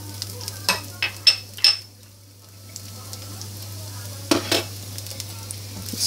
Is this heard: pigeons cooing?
no